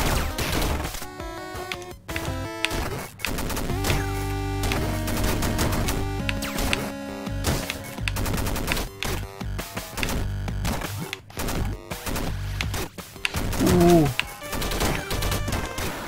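Dense, continuous bursts of rapid gunfire from the video game Downwell, loud and relentless with crashing impacts and game music, no voice over it.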